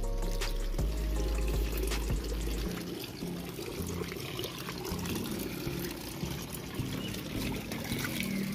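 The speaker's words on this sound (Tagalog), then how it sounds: "Tapos lalagyan ko konting tubig." A little water is poured onto muddy farm soil beside freshly planted pennywort. A few sharp knocks come first, then a soft, continuous trickle and splash runs at moderate volume.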